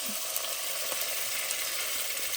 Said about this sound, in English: Now we're gonna sear all sides of the meat.